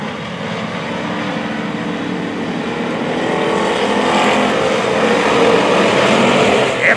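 Pure stock race cars roar around the oval at a Springfield Raceway heat race, a dense sustained engine drone that swells louder toward the end as the pack passes close, with no talk over it.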